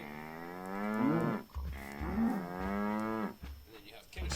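Minecraft cows in the FTB Unleashed modpack let out two long, clear moos one after another, close and fairly loud, with faint footstep thumps between them.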